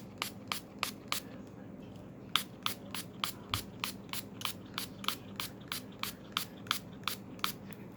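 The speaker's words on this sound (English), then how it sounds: "I'm going to spray some more and give it another couple minutes." Repeated quick bursts of a spray bottle of all-purpose cleaner being pumped, about two dozen short hissing squirts in a steady rhythm, close by with a faint room background.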